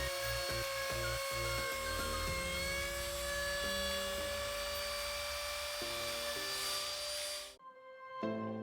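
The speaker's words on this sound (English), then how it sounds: "we're gonna take our router, we're gonna clean up all the edges" A wood router trims the edges of a DIY computer desk, a loud steady high-pitched whine with shifting tones running for about seven and a half seconds before cutting off sharply, followed by faint handling noise.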